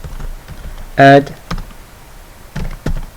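A computer keyboard typing a PowerShell command to create a DNS CNAME record, a handful of sharp separate keystrokes spaced through the moment, with a short spoken word partway through.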